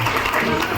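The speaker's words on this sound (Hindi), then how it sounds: "एक बार जोरदार जबरदस्त क्लैपिंग उन सभी अचीवरों के लिए बजा दो" Dense, loud applause from an indoor audience clapping for achievers at an award event, a continuous wash of many hands close by.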